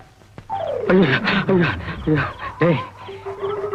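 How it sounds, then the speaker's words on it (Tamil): A dog barks close by in a rapid series of about five or six sharp, tonal barks with a whining edge. They rise and fall over a few seconds, with a brief sustained tone near the end. "நாய் வேற பயங்கரமா குலைக்குது."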